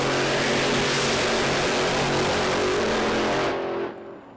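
Mustang drag car with a 522 big block on radial tires roars at full throttle, a loud sustained broadband engine blast that cuts off sharply near the end and fades away.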